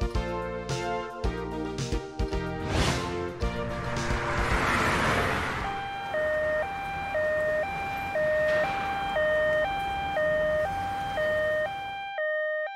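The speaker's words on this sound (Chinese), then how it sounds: "救护车佩利到达现场了哦" A two-tone ambulance siren in a children's cartoon wails in a steady, loud high-low alternation for several seconds, following a busy stretch of music and effects.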